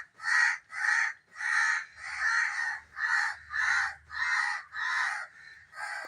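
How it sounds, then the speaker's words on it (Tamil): Crows caw in a steady run of about ten harsh, evenly spaced calls, loud and close, with a faint low rumble underneath partway through. "காக்காலாம் நல்லா கத்துறாங்க."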